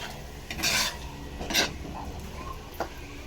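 Ingredients for halo-halo being stirred and mixed in a bowl, with a few loud scraping, clinking strokes against a quiet background and no talking.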